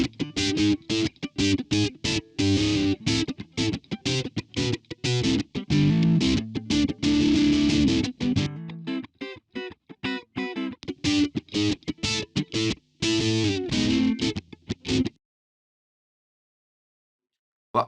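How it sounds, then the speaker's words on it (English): Electric guitar played through a HoRNet HDS1 MK2 distortion pedal emulation, loud, gritty transistor-style crunch in rhythmic strummed chords and choppy bursts, stopping abruptly near the end into silence. "as you can hear, the distortion is very transistor-like"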